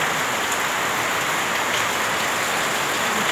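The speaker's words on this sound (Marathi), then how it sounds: "सतत पाऊस चालू आहे सतत" Heavy, unbroken rain pours down on a July day under an overcast sky, a dense, steady hiss that stays loud and even throughout with no letup.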